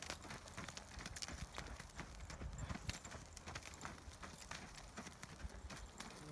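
Hooves of a ridden horse clip-clop steadily during a schooling session, a continuous run of close, even footfalls with a faint background hum and no talking.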